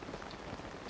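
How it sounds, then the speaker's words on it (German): Steady rain falls in the video game The Legend of Zelda: Tears of the Kingdom, a constant hiss of rainfall at moderate level with no other sounds standing out. "Und warum es hier immer regnet, weiß ich auch nicht."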